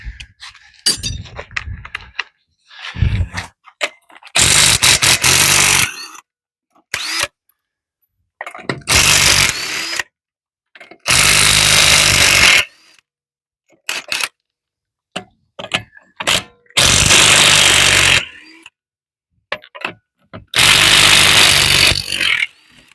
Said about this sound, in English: the first thing I'm going to be doing is removing the front wheels and tires